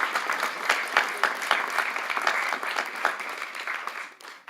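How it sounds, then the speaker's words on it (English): Audience applause fills the room at a community event, a steady mass of clapping from many hands that swells and thins before fading near the end. "A great round of applause"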